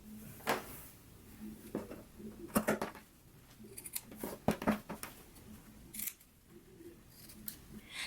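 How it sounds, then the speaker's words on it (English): Scissors trimming a fabric seam on a skirt: a series of irregular, sharp snips with short pauses between cuts, close by and fairly quiet. "now we can go ahead and trim this seam up here along the fold line to 1/4 of an inch"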